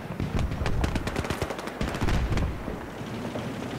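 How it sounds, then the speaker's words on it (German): Rapid bursts of gunfire from a tank in the Battlefield 3 video game, loud and dense through most of the stretch, with repeated sharp cracks and heavy low booms, thinning toward the end. "Ich schieße jetzt."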